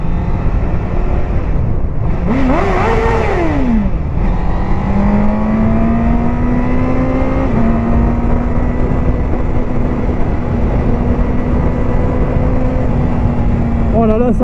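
Honda CBR1000RR Fireblade superbike engine winding up hard, a rising tonal whine that climbs and sweeps with each gear, loud and continuous over heavy wind rush from riding at speed, with brief voice moments early on.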